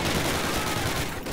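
Rapid automatic gunfire in the Call of Duty video game, a dense, loud burst of overlapping shots lasting a little over a second.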